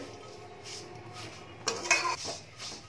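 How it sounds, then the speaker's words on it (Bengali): Vermicelli stirred in ghee in a pan makes a quiet low fry, then a sharp clatter of a metal spoon against the pan stands out near the middle before it fades back to soft frying. "তো প্রথমে সিমইটা ভেজে নিই তাহলে"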